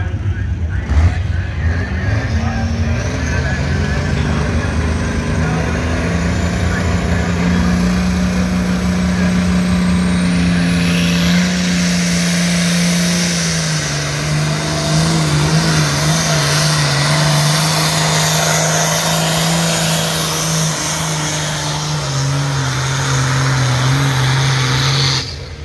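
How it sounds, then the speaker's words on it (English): Tractor engine roaring and revving hard during a tractor pulling competition, a loud sustained drone that climbs in pitch midway and holds, with crowd voices and talk over it. "Yeah, man, we pulling some tractors now."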